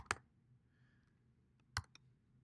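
Two sharp clicks from a computer keyboard as code is typed, separated by a pause, with a few lighter taps after the second, close and isolated in a quiet room.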